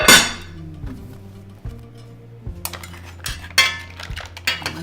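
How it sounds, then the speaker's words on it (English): Cooked mussels clatter from a pot into a bowl, shells clinking and knocking against metal and ceramic in a loud, irregular series of bright hits and scrapes, no one speaking. "Just gonna plate them right from the"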